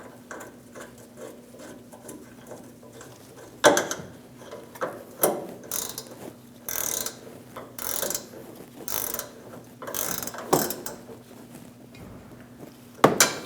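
Wrench ratcheting a brake line bracket bolt snug on a 2011-2018 Ram 1500 during rear brake hose replacement, short clicking bursts with metallic clanks, close and alone.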